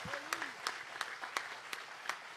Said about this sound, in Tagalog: Palakpakan natin ng malakas na palakpak